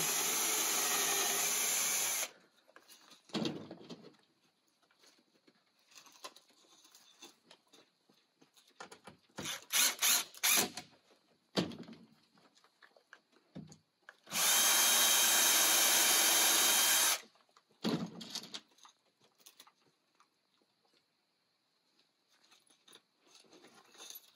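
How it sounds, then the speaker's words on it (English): A power drill whirs into wood in three separate bursts, with quiet clatter and handling noises between them. "so I'm going to pre-drill this again"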